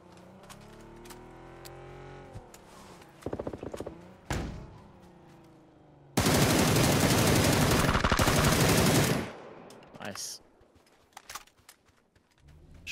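Video-game gunfire from PUBG played on console, a Groza or MK14 rifle: a few short bursts, then a loud sustained automatic volley lasting about three seconds, with scattered single shots before and after.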